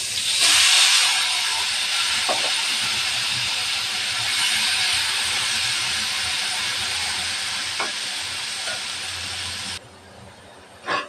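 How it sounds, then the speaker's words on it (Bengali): Potato pieces frying in hot oil in a home kitchen pan after fish, a steady loud sizzle and hiss running almost continuously, with a few faint clinks before the sizzle drops off near the end. "আলুগুলো একটু ভাজা নেব।"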